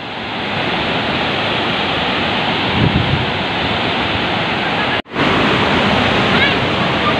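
Broadband roar of waves and splashing water, heard close and loud and continuing steadily, with a brief dropout partway through.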